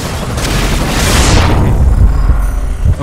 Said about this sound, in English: press the level 2 power button to trigger bigger explosions